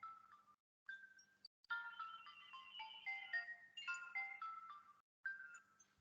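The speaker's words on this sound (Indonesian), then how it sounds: "Sebentar, saya ada telepon." A phone ringtone plays a melodic electronic tune in repeated phrases with short pauses, quiet and a little distant, during an online business meeting.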